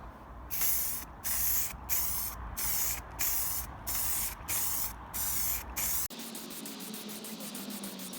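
Primer sprayed from an aerosol can onto a Tamiya Lunchbox RC car body, outdoors on a warm day: seven loud hissing bursts in an even rhythm, each under a second, followed by a quieter, steadier hiss.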